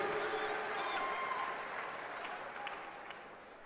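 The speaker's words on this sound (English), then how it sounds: "Clap your hands." Conference audience clapping steadily throughout, a dense crowd of hands applauding in a large hall, fairly loud and sustained, tapering slightly toward the end with no speech over it.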